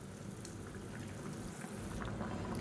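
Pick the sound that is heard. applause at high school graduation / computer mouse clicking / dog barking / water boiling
water boiling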